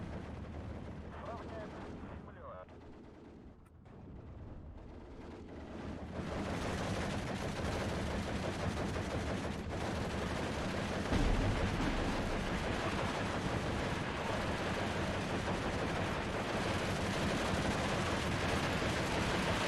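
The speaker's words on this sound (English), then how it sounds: "I'm going to mortar this again" Continuous battle din of mortar and gunfire in the Soviet campaign of the strategy video game Steel Division 2, a dense rumbling roar with repeated blasts that swells louder midway, with talking over it.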